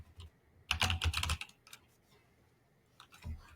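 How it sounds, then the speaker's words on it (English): Keys on a computer keyboard are typed in a quick burst of close clicking strokes, followed by a few isolated taps, all up close with no voices. "Let me just type in"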